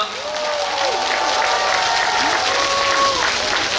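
A large crowd at the Hamyang wild ginseng festival in Korea claps loudly and continuously, dense applause with a voice speaking over it.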